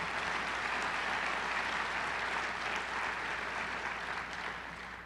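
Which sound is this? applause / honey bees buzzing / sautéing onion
applause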